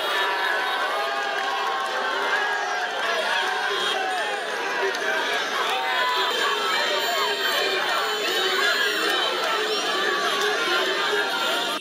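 Dense, jubilant crowd in Burkina Faso greeting the country's president, a constant wash of shouting, chatter and cheering, loud and steady throughout with no single voice standing out.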